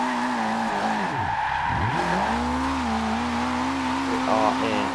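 A Mitsubishi Lancer EVO 6 drifts in Forza Horizon 2, engine droning as revs rise and fall with loud, sustained tire squeal sweeping through the slide, with talk over it.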